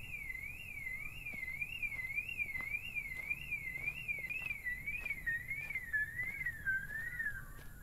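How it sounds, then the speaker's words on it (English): A car alarm in the alien-abduction horror game They Are Here blares steadily throughout, a rising-and-falling electronic siren sweeping back and forth in a regular wail over a low rumbling background. "You set off my car alarm, you fucking bastard."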